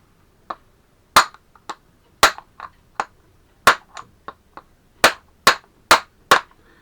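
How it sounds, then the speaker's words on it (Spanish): Sharp metallic blows from hammering on a socket wrench to drive a bearing out of a Volvo Penta 2003T marine engine, about a dozen close, loud strikes at an irregular pace with lighter taps between. "Le damos al rodamiento justo por dentro y va saliendo"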